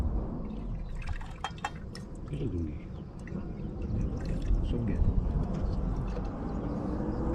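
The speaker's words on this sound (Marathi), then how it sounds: "कमी पाण्यात अशी भांडी धुवायला लागतात" Water splashing and trickling over dishes being washed with only a little water, with clinks of utensils and voices talking in the background.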